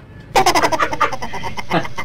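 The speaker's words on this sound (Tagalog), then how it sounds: "Kining ako ang manok na hiniptan." A chicken clucking loudly and close, a rapid series of sharp clucks after a brief quiet start, trailing into a few more calls.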